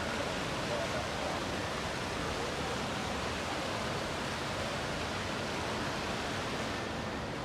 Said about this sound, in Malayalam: ഖത്തർ മാളിലെ വെള്ളച്ചാട്ടം അവിടെ എത്തുന്നവർക്ക് ഒരു അത്ഭുതകരമായ കാഴ്ചയാണ്.